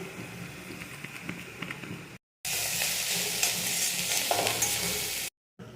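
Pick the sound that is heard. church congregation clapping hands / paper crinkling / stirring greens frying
stirring greens frying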